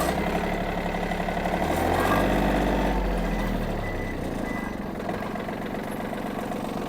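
Yanmar F-200 mini tractor backing up on asphalt, its mid-pitched diesel engine running steadily and loud close by, with the engine note swelling briefly as it reverses.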